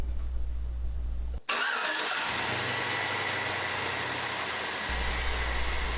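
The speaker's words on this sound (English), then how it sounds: "we're going to start the engine and see if we have any leaks" A Chevy truck's 5.3 Vortec V8 cranks and fires up after a water pump, thermostat and serpentine belt replacement, catching with a brief rev, then settling into a steady, loud idle.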